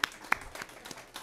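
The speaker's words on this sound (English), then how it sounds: "that's worth a clap." Brief, sparse clapping from an audience at a community listening circle meeting: a few distinct hand claps, fairly faint, fading out within about a second.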